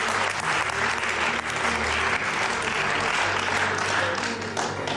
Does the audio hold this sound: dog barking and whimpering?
no